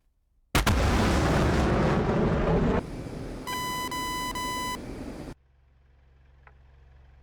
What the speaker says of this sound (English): that's the sound of us being tracked